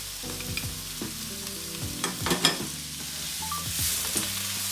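Fresh ginger and garlic sizzle in a pan with onions, a steady frying hiss punctuated by clinks and scrapes of stirring, close and fairly quiet.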